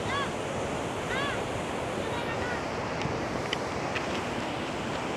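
Large ocean waves roll and crash steadily onto a beach at Gunung Kombang, a continuous loud surf roar with wind buffeting the microphone and no talking.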